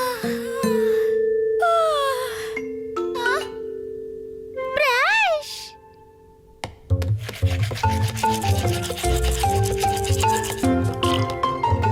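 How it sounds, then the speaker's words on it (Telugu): Cartoon toothbrush scrubbing in a Telugu kids' cartoon, arriving as a fast rhythmic rubbing burst after a stretch of whistly, sliding musical effects and tones. "బ్రష్ చెయ్యండి."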